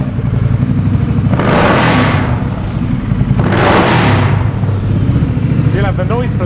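Up close, a Triumph Thruxton R 'deBolex Special' motorcycle engine rumbles at idle and surges in two loud revs, with a brief voice faintly heard near the end.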